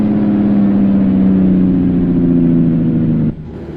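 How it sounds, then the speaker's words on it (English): A 1949 Peterbilt 350 truck engine braking in American Truck Simulator, a loud, steady, rumbling diesel drone with a pulsing low growl that cuts off abruptly near the end, leaving quieter road noise. "Let's see a little bit of engine braking here first before I keep talking away."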